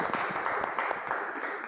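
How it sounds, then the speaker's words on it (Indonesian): Applause fills a teaching-practice classroom session, a short, dense wash of clapping heard steadily from start to end. "tepuk tangan"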